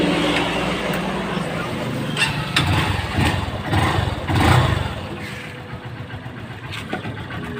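A Honda Supremo motorcycle engine idles nearby with a slightly noisy, uneven putter, with a few sharper knocks early on, while someone talks over it.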